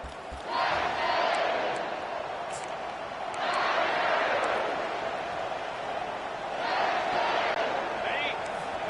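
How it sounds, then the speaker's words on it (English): A large football stadium crowd roars in swelling waves during an LSU game against Clemson, loud and sustained with rising and falling surges of cheering and yelling. "This crowd trying to make life miserable for this offense."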